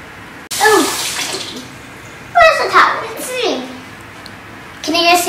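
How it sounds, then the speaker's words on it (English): Hands are washed under a running tap, a steady rush of water for about two seconds, then brief splashes, with a voice talking over and between the water. "I'm gonna wash my hands."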